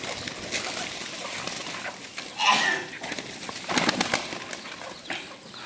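Pigeons and chickens being fed: soft cooing and fluttering wings near and far, with a couple of louder flapping bursts, amid a busy outdoor background.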